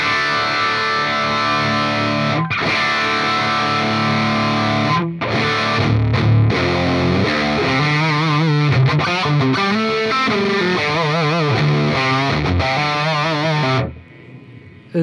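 An electric guitar through a Sinvertek MGAT-1 preamp pedal set to high gain plays sustained chords and then choppy riffs, with a thick, heavily saturated tone throughout before ending abruptly.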